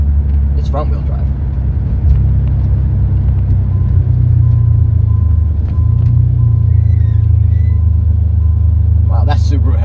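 Inside a front-wheel-drive 1990 Eagle Premier on the road, a steady, loud, low engine and road rumble fills the cabin, with a few brief voice sounds near the start and end.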